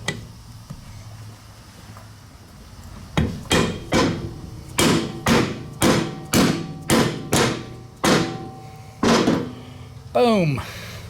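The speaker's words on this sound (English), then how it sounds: "If not, I'll be able to tap them in with a hammer really quickly." A series of sharp rubber mallet taps, about a dozen evenly spaced strikes driving bearings into a KTM 300 motorcycle engine, with a quiet voice before them.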